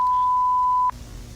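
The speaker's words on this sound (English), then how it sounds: "I really don't like the beeping." A single sustained electronic beep, a steady pure tone held for almost a second before cutting off abruptly, leaving faint background noise.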